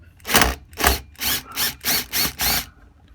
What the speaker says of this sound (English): we're just going to get our drill and put it down the middle of that, locate the screw